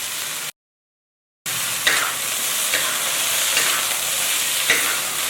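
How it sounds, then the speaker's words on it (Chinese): Shredded potatoes tossed in a wok with dried red chillies, garlic and green and red pepper strips, a brief silence then a steady hot sizzle with stirring scrapes and occasional clinks, no speech. "翻炒几下之后，我们倒入土豆丝炒匀。"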